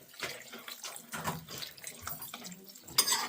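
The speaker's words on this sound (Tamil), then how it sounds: "இப்போ கொஞ்சம் தண்ணி ஊற்றணும்." Water poured into a pot of sambar vegetables in a home kitchen, a soft splashing trickle in uneven bursts, fairly faint and close.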